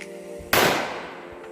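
A single sharp, loud shot from a Glock .40 pistol aimed at a metal cream can outdoors, a sudden crack that decays quickly, with no talk.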